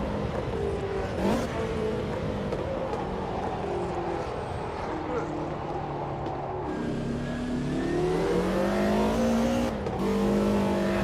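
Racing car engines in the video game Automobilista 2 rev and shift continuously, with rising and falling engine pitch, a passing car and some tire noise in a busy, close mix.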